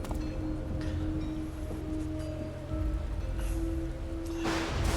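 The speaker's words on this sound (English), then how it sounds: "And it starts raining right on cue." Steady rain in the video game Final Fantasy XIV, a continuous broadband hiss with a low rumbling bed and faint tonal music lines, swelling to a brighter, louder wash near the end; no talking.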